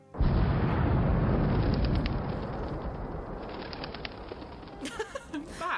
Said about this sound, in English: Boom went the maroon, as they say, echoing nicely around the ruins. Off went the crows from the tops of the trees.